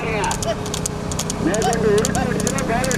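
Racehorses galloping in a village horse race, with steady rapid hoofbeats heard under loud continuous commentary and crowd noise.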